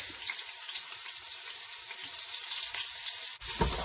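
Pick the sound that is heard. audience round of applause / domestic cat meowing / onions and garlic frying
onions and garlic frying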